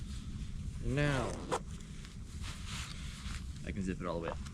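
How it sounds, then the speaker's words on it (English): A jacket zipper is pulled up during a mountain hike, with a quick rising zip under outdoor wind noise, and someone speaks around it. "I can zip it all the way up."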